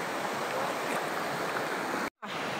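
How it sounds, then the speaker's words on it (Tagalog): Clean river stream on an island flowing steadily, a dense continuous rush of water close by with a brief dropout near the end. "ang ilog dito sa isla, napakalinis"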